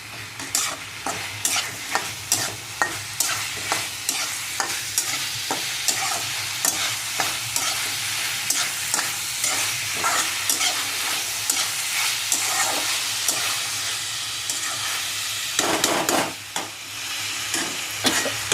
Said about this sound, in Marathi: पनीर पण टाकून चांगलं फ्राय करायचे 1 नंबर